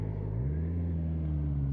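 A car engine idles low and steady close by, easing down as the vehicle slows to a stop at a junction, with a slight pitch drop partway through and no voices.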